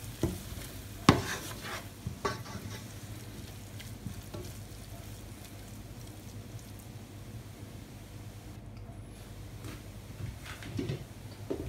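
Tomato puree cooking with mixed vegetables in a pan, a soft continuous sizzle with a few sharp clinks of a utensil against the pan, close and quiet, no talking.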